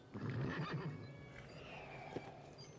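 A horse gives a loud whinny that fades out, with faint background noise and a soft hoof knock near the end.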